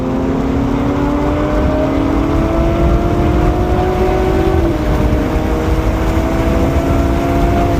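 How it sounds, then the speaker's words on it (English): BMW Z4 M40i braking hard into a track corner, a loud continuous engine and road roar with a gliding tone that drops in pitch as the car slows, steady and close throughout. "Hard braking here into turn 10."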